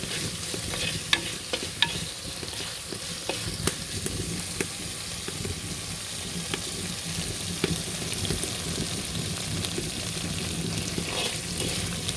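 Ingredients for a Kottayam-style mackerel curry sautéing in a pan, a continuous close sizzle with frequent stirring scrapes and light ticks throughout.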